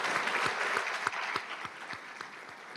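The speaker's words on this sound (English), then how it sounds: "Let's give Sharper Palette a big round of applause." Audience applause at a Brightpoint Community College PTK induction ceremony, a steady wash of clapping with a few sharper individual claps standing out, moderately loud and continuous.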